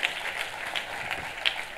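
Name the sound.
congregation applause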